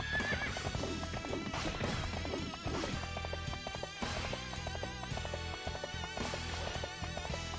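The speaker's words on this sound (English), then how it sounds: "Get on the horse." A horse in a video game gallops with steady clip-clop hoofbeats and neighs clearly, all layered over continuous game music.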